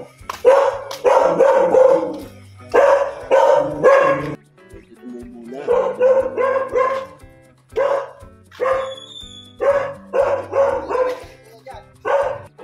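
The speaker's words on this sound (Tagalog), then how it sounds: "Ang ingay lang ng aso." A dog barks repeatedly in loud, close bursts of several barks each, separated by short pauses, with some yipping and whining tones between, outdoors.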